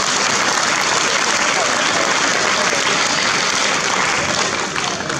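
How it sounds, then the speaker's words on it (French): Loud, dense applause from the audience for the arbiter at a youth chess championship prize ceremony in France, continuous clapping filling the room at close range, with faint crowd murmur beneath. "on peut l'applaudir"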